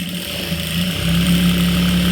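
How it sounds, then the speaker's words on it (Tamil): A sewing machine stitches a blouse, its motor a close, steady hum that swells and holds after the first second, with no talk. "நான் இன்னொரு தையல் போட்டுக்கிறேன்."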